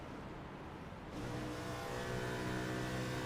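A NASCAR stock car engine in the iRacing game at Darlington, the driver clutching into a corner; a quiet hum jumps to a steady, louder droning engine tone with no deceleration.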